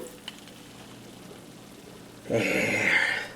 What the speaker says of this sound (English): You want to listen for the sizzle now.